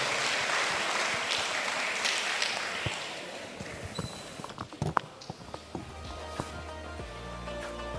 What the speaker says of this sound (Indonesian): Kita beri tepuk tangan yang sangat luar biasa Bapak Ibu sekalian.